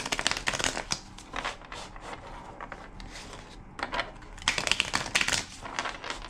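A deck of cards being riffle-shuffled up close, rapid dense flutters in several bursts with brief pauses between them, no talking.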